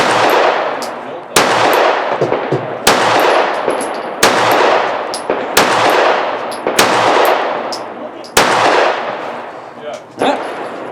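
Springfield Armory Hellcat pistol fired at an outdoor range, eight sharp loud shots spaced roughly a second and a half apart, each trailing off in a brief echo.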